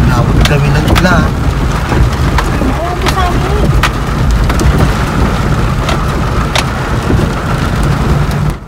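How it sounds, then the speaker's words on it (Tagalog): Heavy rain pours down outdoors while plant hunting, a loud, constant hiss of drops with low rumbling beneath and brief voices or other sounds breaking through here and there. "Unti-unti na siyang lumalagas. Yan na. Malakas na."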